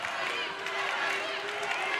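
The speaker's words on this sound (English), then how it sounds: "Crowd getting loud at the bank" Broad crowd noise fills an arena during an NCAA women's volleyball match between Arkansas and Florida International, a steady, fairly loud roar of cheering voices sustained throughout without breaks.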